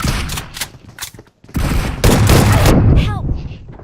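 Rapid gunfire bursts crack through a 2v2 online shooter match, coming in clustered volleys with a short pause midway. Excited player voices talk over the shots.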